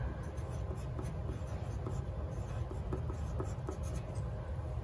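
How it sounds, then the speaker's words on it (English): A marker writing on a surface, likely a whiteboard, as chemistry notes on the periodic table are written, with a steady soft squeaky rubbing that runs throughout, close and moderately loud, with no talking. "I'm going to write metalloids."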